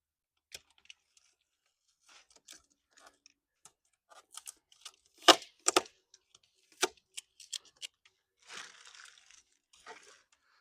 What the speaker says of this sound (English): now I gotta trim this Gorilla Tape off.